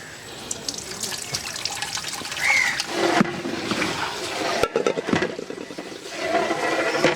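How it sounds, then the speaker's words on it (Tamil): Lemon juice from ten lemons poured into a huge 30 kg chicken dum biryani cooking outdoors, a steady liquid splashing and trickling stream with some clatter, continuing for several seconds. "பத்து பழம் லெமன் சாறு சேர்த்துக்கலாம்."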